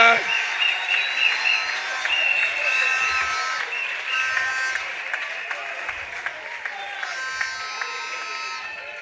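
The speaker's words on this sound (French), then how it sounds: "vous deviez applaudir très fort" Loud, sustained applause and cheering from a large audience, with many hands clapping under whistles and shouts, fading a little toward the end while voices carry over it.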